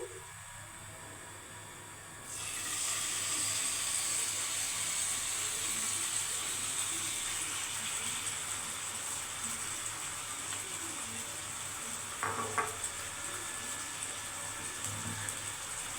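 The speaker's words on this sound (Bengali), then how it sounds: "এবার চিংড়ি মাছটা আমি হালকা ভেজে দিচ্ছি।" Sauce-marinated prawns hit hot oil in a pan on low gas, starting a sudden, steady sizzling hiss that holds evenly, with a few faint clinks near the end.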